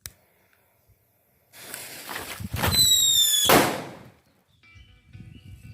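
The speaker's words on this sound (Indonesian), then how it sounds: "kali ini kita akan eksperimen lagi ngabuburit menyalakan banyak petasan" A firecracker fizzes and hisses loudly for a couple of seconds with a shrill squealing whistle, close by, after near silence, then fades to a faint crackle.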